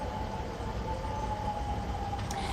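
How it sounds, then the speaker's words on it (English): A faint, steady siren tone carries on without a break outside the White House, far off beneath a constant broadband wash of street and traffic noise. "I don't know if you can hear the sirens behind me right now"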